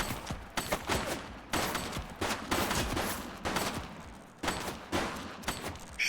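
Repeated gunshots fired in the video game The Precinct, loud, close bursts in irregular clusters with brief gaps between volleys, no talking.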